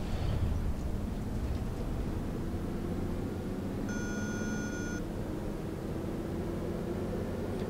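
A single electronic warning beep sounds for about a second inside a city bus in the OMSI 2 bus simulator on the Ruhrgebiet map, heard over a steady low engine and road rumble.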